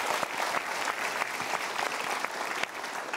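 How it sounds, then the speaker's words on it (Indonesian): An audience at a seminar claps in steady, dense applause that fills the room and carries on throughout without any talk. "Berikan tepuk tangan dulu."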